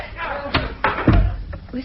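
A door opens with a knock-like thud and a heavier bang in a radio drama, a few short impacts set against background room noise.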